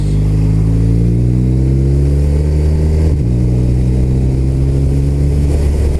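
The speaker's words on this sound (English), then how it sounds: "Can you hear that exhaust?" A 2015 BMW R1200RT LC motorcycle fitted with an Akrapovic exhaust drones steadily while riding, a loud, close, continuous engine note with a rising pitch and a brief dip midway, with no talk.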